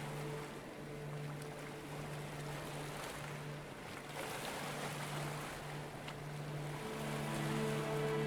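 Video game (Stormworks) ocean waves wash and crash continuously against a boat's lifeboats, with a low steady hum underneath; broad rushing water noise, fairly faint and even.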